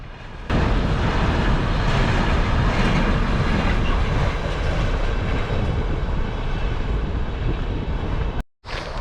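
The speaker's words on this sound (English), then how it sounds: "we saw a train on the railway track" A train rumbles steadily past on the tracks in the Scottish Highlands, a loud continuous roar of wheels and carriages that holds for several seconds before cutting off abruptly.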